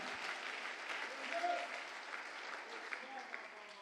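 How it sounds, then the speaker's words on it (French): Church congregation applauding loudly and steadily, a broad wash of clapping lasting throughout, with voices mixed in. "Est-ce que nous pouvons acclamer très fort?"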